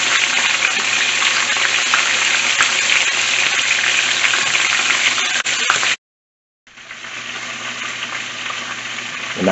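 Loud, steady sizzling and crackling of chicken tenders deep frying in hot oil, briefly cutting out to silence before resuming.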